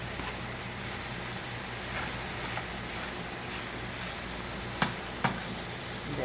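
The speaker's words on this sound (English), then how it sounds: "As you see, the shrimp are nicely cooking." Shrimp cook in melted butter in a pan, with a constant close-up sizzle and crackle and a couple of sharp utensil clicks near the end.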